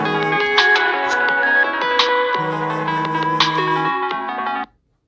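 A mobile phone rings loudly and close with a bright melodic ringtone of layered chiming notes in a rhythmic pattern, playing for several seconds before cutting off abruptly into silence.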